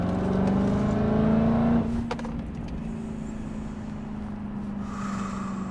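A 2017 Dodge Charger Hellcat engine pulls hard in fourth gear, a loud steady roar with a rising tone that eases off after about two seconds into a lower, sustained drone.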